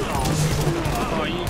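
A big gun fires during a mission in The Division, a rapid burst of gunshots over continuous game ambience while a voice talks over it.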